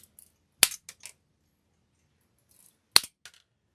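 Scissors or snips cut the wire hanger off a grapevine wreath, making two sharp, close snaps about two seconds apart, each followed by faint small clicks, in a quiet room.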